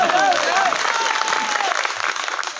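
An audience at a Hindi comedy poetry show (kavi sammelan) claps loudly and steadily, dense continuous applause with some crowd voices mixed in, sustained throughout before fading slightly.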